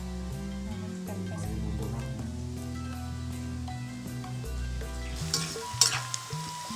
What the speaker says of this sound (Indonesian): Jadi digoreng dulu sebelum dibumbuan.